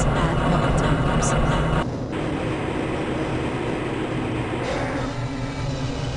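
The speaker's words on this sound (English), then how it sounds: "This train is inbound from the Area 8 topside dormitories to the central transit hub in Area 9." A Black Mesa transit train in Half-Life Blue Shift, travelling inbound from the Area 8 topside dormitories toward the Area 9 hub, gives a loud, continuous rolling rumble with a sharp shift in tone partway through, steady and close.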